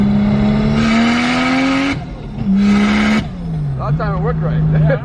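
A Nissan 370Z engine revs hard, its pitch climbing through a gear, dropping, then climbing again, loud and close, while people talk over it; third gear grinds a little.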